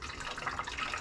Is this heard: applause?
no